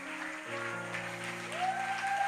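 At a church service a congregation applauds steadily for a few seconds, a dense patter of clapping under sustained organ or keyboard chords.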